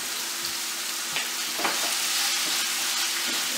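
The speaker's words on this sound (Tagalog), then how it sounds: "Lagay natin sa high heat para madaling maluto ng chicken." Chicken stir-frying over high heat for chop suey, a steady loud sizzle with spatula scrapes and stirring knocks throughout, no voices.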